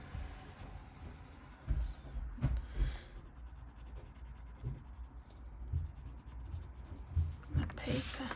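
A single colored pencil scratches across paper up close, shading with varied pressure in uneven strokes that swell and fade, with occasional soft rubbing.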